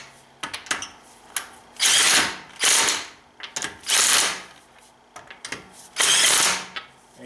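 Ratchet clicking in quick bursts while snugging brake caliper bolts on a BMW X5 E70 front brake job, several loud close rasping runs separated by short pauses and small metallic clicks.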